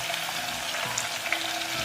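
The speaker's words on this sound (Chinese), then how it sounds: "葱段，小火炸香" Cinnamon, star anise, Sichuan peppercorns, fennel, ginger slices and scallion pieces fry in oil over low heat, giving a steady, moderate sizzle with faint crackles and a light stir.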